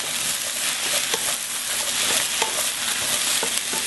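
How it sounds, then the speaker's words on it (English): Onion, zucchini and potato stir-fry for black bean noodle sauce, a loud steady sizzle with frequent clicks and scrapes of stirring, close up and without voices. "I'm going to keep stirring until this potato looks a little like a half translucent."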